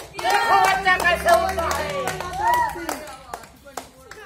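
Sharp hand claps keep time with a lively voice at a Birha folk music video shoot in Kunda, Pratapgarh, while people sing and talk close by.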